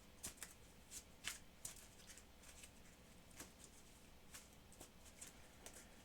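A deck of cards is shuffled during a tabletop card game, producing soft riffling and crisp tapping bursts at close range in a quiet room.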